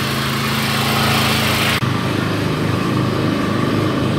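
Generators running in a Ukrainian city make a loud, steady engine drone that holds for the whole stretch, with a brief shift in tone partway through and no voices.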